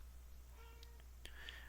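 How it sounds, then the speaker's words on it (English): A house cat meows softly a couple of times somewhere in a quiet room, faint and short against a low steady hum. "Oh, the cat's meowing."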